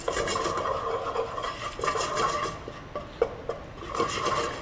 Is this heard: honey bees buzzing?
no